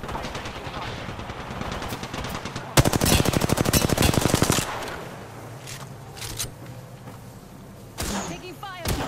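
Gunfire in the Apex Legends video game: rapid automatic bursts, with one dense loud burst mid-clip and scattered shots and thuds around it, mixed with game sound effects.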